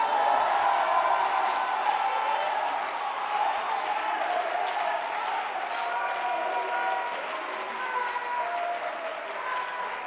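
A church congregation applauds steadily for about ten seconds, dense sustained clapping mixed with crowd cheering and voices, loud and even throughout.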